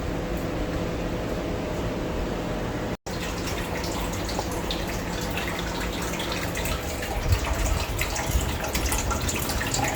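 Water runs from a kitchen tap in a steady, close, continuous stream with faint dripping, heard alone during home cooking on a rainy day.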